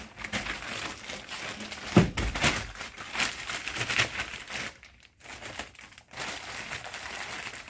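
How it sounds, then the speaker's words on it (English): A plastic bag crinkles around a partially filled tube of clay from a shop-built extruder, in close, uneven bursts of rustling with a few sharp handling knocks and a brief pause. "take the partially filled tube of clay, put it inside a plastic bag"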